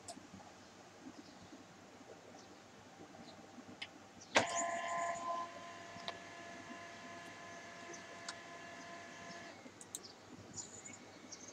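A Ricoh SP 111 laser printer warms up with a sharp click, then runs a steady mechanical whir with tonal motor hum for several seconds before settling back to a quiet room background.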